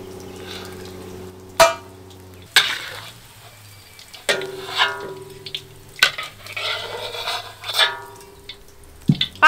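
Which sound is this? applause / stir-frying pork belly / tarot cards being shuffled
stir-frying pork belly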